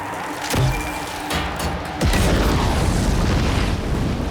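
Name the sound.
grenade explosion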